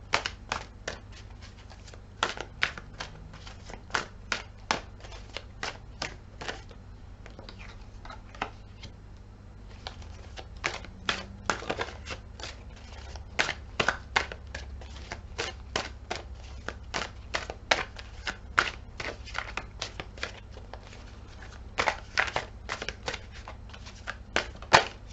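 Tarot cards are shuffled close up, with dense bursts of sharp riffling snaps and flicks recurring throughout, with brief quieter gaps between them.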